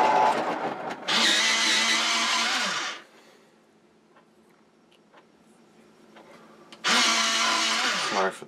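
An electric pencil sharpener whirs loudly for about two seconds, falls quiet, then grinds again in a second burst.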